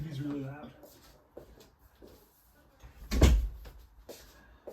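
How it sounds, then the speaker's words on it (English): Doors are shut in a room with a loud TV, a thudding knock and close heard among quieter handling noises, with a voice speaking briefly at the start. "Let me shut the doors because the TV's really loud."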